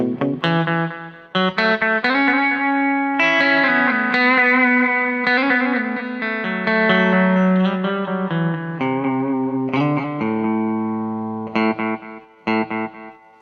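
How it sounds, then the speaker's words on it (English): An electric guitar runs through a cheap delay pedal with loud echo repeats, playing a melodic line whose notes ring on and trail into audible echoes, with distortion and reverb colouring the sustained, continuous tone. "echo is just the volume of the repeats, not necessarily the number of repeats"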